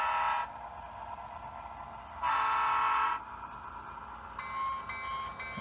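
A small HO scale model train bell rings in bursts, fairly quiet and close, with short pauses between the ringing passages.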